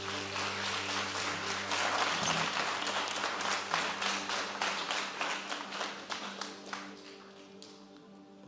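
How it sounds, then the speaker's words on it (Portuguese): A church congregation claps together in steady applause, a dense patter of many hands that gradually thins and fades toward the end. "Aplauda Jesus."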